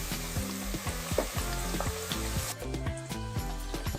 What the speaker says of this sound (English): Fry in batches until golden and crispy.